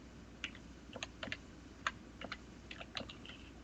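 Keys clack on a computer keyboard in irregular short bursts, moderately close over a faint background hum.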